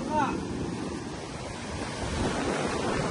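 Ocean surf rolls steadily with gusting typhoon wind buffeting the microphone, a constant rushing roar close by with no clear breaks.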